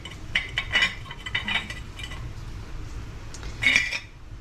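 Homemade pineapple tepache strained through a metal strainer from a jar, with scattered light clinks and scrapes of utensil on metal over a low background hum, no talking.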